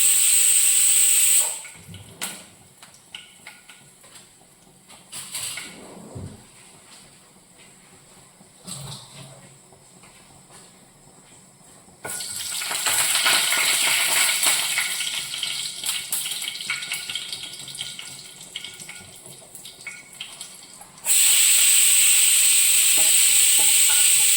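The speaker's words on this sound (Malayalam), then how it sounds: "പട്ട ഗ്രാമ്പു ഏലയ്ക്ക ഇതെല്ലാം കൂടെ കുരുമുളക് ഇതെല്ലാം കൂടെ ചേർത്ത് ഒന്ന് മൂപ്പിക്കണം" Whole spices, cinnamon, clove, cardamom and pepper, frying in oil, with a steady hiss and sizzle that swells loudly in the middle and again at the end, punctuated by a few stirring knocks.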